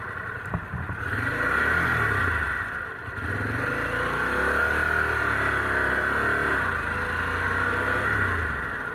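Harley-Davidson Pan America Special GI Edition motorcycle accelerating on a test ride, engine rising in pitch through gear changes, loud and steady with wind roar over the full stretch.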